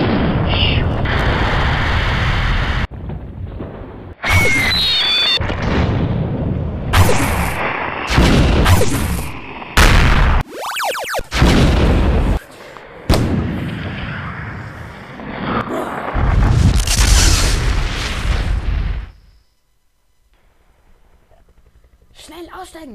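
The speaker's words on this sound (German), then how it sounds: "Auf mein Kommando schießt ihr los." Gunfire and explosion sound effects in a Playmobil toy film come as loud bursts, booms and whooshes in abrupt blocks separated by short silences, with voices mixed in, ending in near silence.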